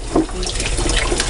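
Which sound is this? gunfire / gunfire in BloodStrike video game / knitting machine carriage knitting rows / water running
water running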